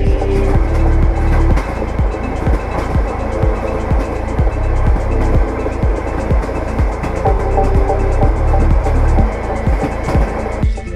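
Inside the carriage of a long-distance passenger train, wheels clatter over rail joints in a steady, rhythmic clickety-clack beneath a loud, constant rumble, repeating throughout with no talking.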